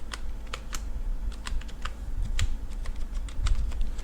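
Keys clatter on a computer keyboard as a field name is typed into a table design in Microsoft Access 2007, crisp irregular clicks in quick bursts, close and alone.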